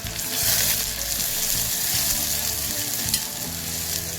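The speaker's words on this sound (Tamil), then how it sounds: "கொஞ்சம் வெங்காயம் அரிஞ்சு வச்சுருக்கேன் அதையும் போட்டுக்கிறேன்" Chopped onions with fennel seeds sizzle and crackle steadily in a hot pan for cowpea rice, a close, continuous frying hiss with occasional stirring.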